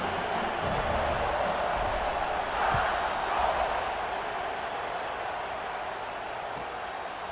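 Stadium crowd noise in the video game EA Sports College Football 26: a faint, diffuse, steady roar of many voices that swells slightly midway, heard from a distance.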